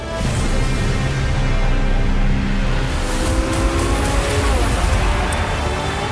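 A Porsche 918 Spider hybrid sports car drives steadily with a continuous engine and road roar, loud and close throughout, with faint tonal whine shifting under the broadband noise.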